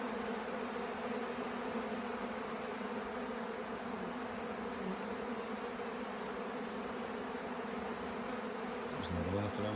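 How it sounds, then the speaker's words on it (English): Honey bees buzz in a continuous low drone around a hive in autumn, a steady, fairly faint hum with no talking. "And you hear the noise from the bees"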